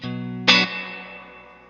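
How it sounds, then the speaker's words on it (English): A guitar chord rings out, then a sharp strummed chord through a Fender plate reverb pedal blooms into a long, smooth reverb tail that slowly fades. "this is the plate reverb"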